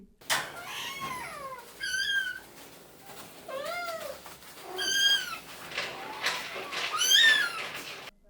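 Kittens in an animal shelter meow in a series of high, rising and falling calls, about five or six distinct meows spaced across the stretch, close and clear over a faint room hush.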